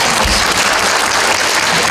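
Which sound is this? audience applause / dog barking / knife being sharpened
audience applause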